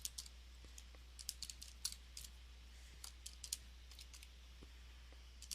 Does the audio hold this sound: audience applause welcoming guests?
no